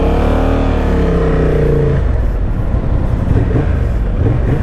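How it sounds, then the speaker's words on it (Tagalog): A 2024 Honda Transalp 750 motorcycle engine runs loud and close, its tone rising steadily over the first two seconds, then settling into a rougher, steady roar. "At maganda na itong sounds nito, engine sound, 750 na kasi"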